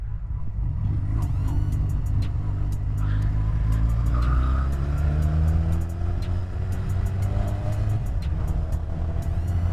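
Honda Rebel 125 motorcycle accelerating through the gears on a road, with a steady, loud engine drone whose pitch climbs as it picks up speed, continuous and up close with no talking.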